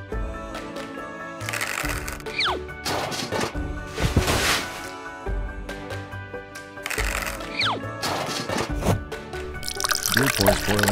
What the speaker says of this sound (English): Blue pours boiling water into the basin.